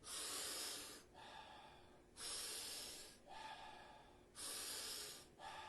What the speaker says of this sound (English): So big breath, soft exhale